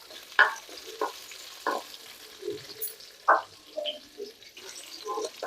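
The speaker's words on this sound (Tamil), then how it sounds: "1 நிமிஷம் வதக்கிட்டு பாக்கலாங்க" Chana dal sautéing in a pan with onion, ginger and garlic for a Tamil kuzhambu, a soft low sizzle broken by several distinct scraping stirs of a spoon at uneven intervals.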